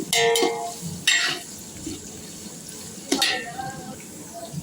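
Onions fry in a pan with green chillies and salt for chicken biryani, a steady sizzle broken by three loud bursts of spatula scraping and stirring close by.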